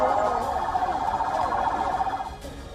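An ambulance siren wails loudly and steadily on a street in Gaza, a continuous warbling tone that fades near the end.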